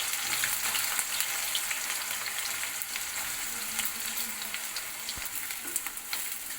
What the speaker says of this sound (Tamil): ஆனியன் ப்ரௌன் கலர் வர வரைக்கும் நம்ம இதை ஃப்ரை பண்ணிக்கலாம்